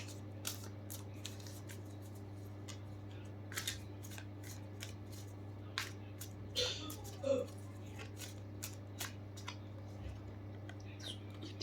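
Soft papery riffles and taps of cards being shuffled by hand, irregular and close, over a low steady electrical hum.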